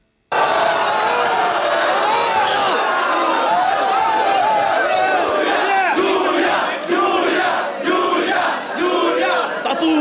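A rap battle crowd roaring and cheering in reaction, a loud sustained mass of shouting voices with whoops rising and falling, continuous and close throughout.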